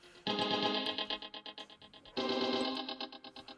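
A synthetic synthesizer texture with a delay effect, heard in two sustained bursts of dense, shimmering tone with pulsing repeats that decay between them, with no talking.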